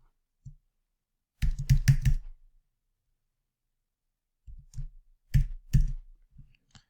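Mouse clicks from a computer setting up a virtual machine in the vSphere client, heard as two bursts of several quick, close clicks separated by silence, with no talk.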